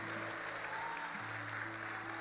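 A church congregation applauds during a sermon, a continuous soft clatter of many hands over a low steady electrical hum, moderately distant.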